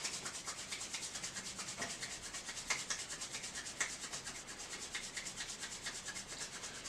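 A pair of palms rubs briskly together during a yoga eye exercise, producing a soft, quiet, steady swishing friction with rapid rhythmic strokes and no voices.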